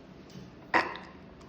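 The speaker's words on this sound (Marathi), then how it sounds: "ढेकर देते बघा ना." A dog lets out a single short burp after eating a large chicken leg piece, a brief close gulping eructation standing out from quiet room noise.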